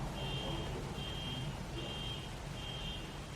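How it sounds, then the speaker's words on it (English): A car alarm sounds outside, repeating a steady high beeping tone at an even pulse, muffled and fairly distant beneath a constant broad background rumble. "Someone's car alarm."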